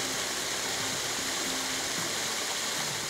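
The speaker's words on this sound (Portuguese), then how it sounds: "E nos leva até uma linda cachoeira." Water from a waterfall at the end of a 200-metre forest trail in a Gaspar water park pours in a steady, close, broadband rush with no breaks and no voices.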